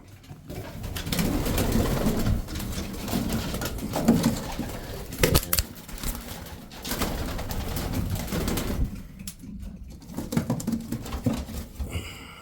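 Young pigeons coo softly in a small loft, low throaty calls repeating close by, with wingbeat flutters and shuffling noises scattered throughout.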